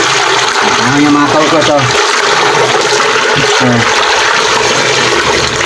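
Water rushes loudly through a toilet bowl, washing away cement left after the bowl is set, a continuous close flush with someone talking over it.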